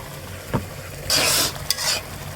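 Meat (goat) being stirred in a frying pan, with a soft background sizzle broken by a few scraping, rustling stirring strokes of a utensil close up, no talking.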